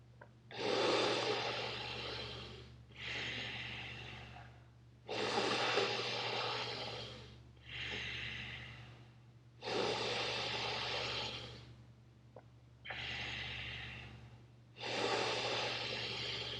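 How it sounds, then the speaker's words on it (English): Powerful yogic breathing through both nostrils during a Kundalini frog pose exercise: seven loud, forceful breath bursts in a steady rhythm, each a broad rushing exhale-inhale, close to the mic over a constant low hum. "Keep breathing powerfully, both nostrils in and out."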